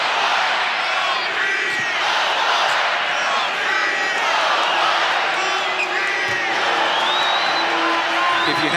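Loud, steady roar of a packed arena crowd at a Michigan State at USC men's college basketball game, constant cheering and shouting with a broadcaster's voice talking over it.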